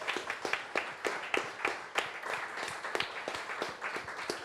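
Festival audience giving a round of applause, clearly separated handclaps in a loose, fairly quick rhythm from a smallish group, close and moderately loud.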